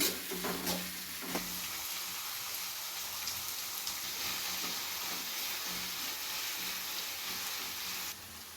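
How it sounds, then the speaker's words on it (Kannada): Onions frying in a pan with green chillies until reddish, for a fenugreek-leaf and egg palya, give a steady, close sizzle and crackle that runs throughout without talk. "ಈರುಳ್ಳಿ ಹಾಕೊತಾ ಇದ್ದೀನಿ. ಇಷ್ಟನ್ನು ಕೆಂಪಾಗೋವರೆಗೂ ಚೆನ್ನಾಗಿ ಫ್ರೈ ಮಾಡ್ಕೊತೀನಿ."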